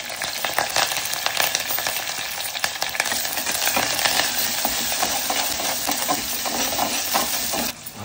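Garlic, green chili, small tomato and curry leaves fry in oil, giving a loud, dense, continuous sizzle with stirring clatter close by, cutting off briefly near the end.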